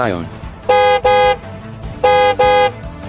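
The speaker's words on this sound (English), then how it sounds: "he honked at me back" A car horn sounds in two pairs of loud, steady honks, each pair made of two short blasts in close succession, over a faint background of traffic and rumble.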